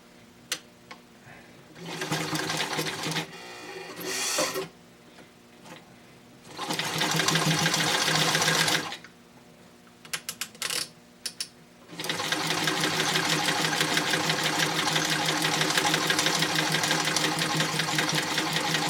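A domestic sewing machine stitches suspender extensions in several loud bursts, running briefly, pausing, starting again with short stutters, and finishing with a long steady run.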